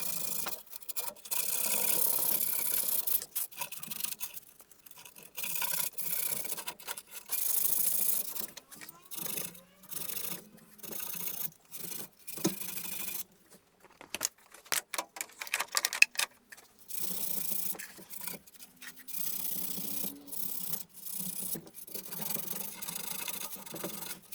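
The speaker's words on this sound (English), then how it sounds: "I've just got a little bit of emery cloth and I'm going to use that on the manifold just to get some of this loose" Emery cloth rubbed over the exhaust manifold of a 1.8 K-series engine on an MGF, giving quiet, rapid rasping strokes in bursts with brief pauses, close up and faint.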